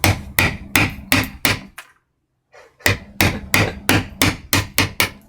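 Hammer strikes in Japanese printmaking: two bursts of loud, evenly spaced blows, about five or six sharp hits each, separated by a brief pause, close and with no talking.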